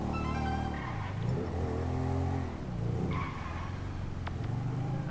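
A car drives and skids in a PS4 video game, engine droning as tires squeal through long sliding turns, fairly loud and continuous with no voices over it.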